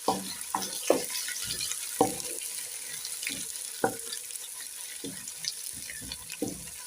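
Biryani ingredients stirred in a pot, a quiet background sizzle with irregular soft knocks and scrapes of a spoon against the pot, fairly faint and unhurried, without speech.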